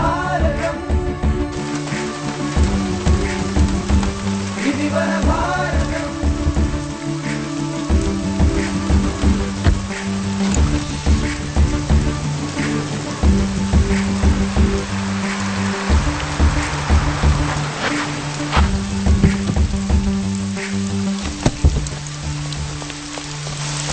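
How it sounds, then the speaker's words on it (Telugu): Rain falls at night, a steady patter under a film scene. Music and other background sounds mix with it throughout. "రాజమ్మా, ఏంటమ్మా ఈ వర్షంలో ఈ రాత్రిపూట ఏంటి?"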